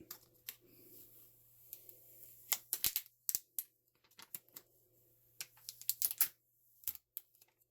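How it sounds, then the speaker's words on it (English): Transfer tape being peeled up off vinyl applied to a tumbler cup, giving close, crisp crackling ticks and sticky tearing bursts in irregular clusters over a quiet low hum, with no speech. "And then I'm going to peel my transfer tape up."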